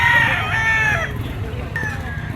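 A bull stag rooster, a Gilmore cross about 2.5 years old at a gamefowl market in Padre Garcia, Batangas, gives one loud, close crow lasting about a second, then a shorter call follows against a steady crowd murmur.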